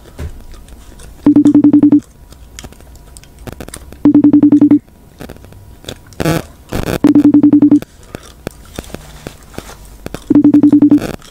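An outgoing phone call rings through a handset speaker, with four evenly spaced ringback tones roughly three seconds apart. Brief bumps and handling noises fall between the rings.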